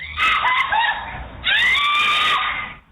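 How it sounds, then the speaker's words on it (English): Captured on surveillance footage at a gas station after a road-rage shooting, a mother lets out piercing, high-pitched screams in two long bursts separated by a short gap, loud and close. "A mother's piercing scream caught on surveillance video obtained by ABC station KTRK"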